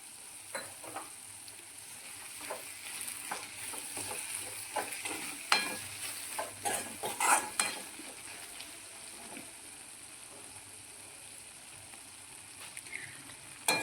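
Green turmeric curry cooked in plenty of ghee, with fresh coriander just added, sizzles steadily in the pan while a spoon scrapes and stirs in repeated bursts, close and clear with no talking.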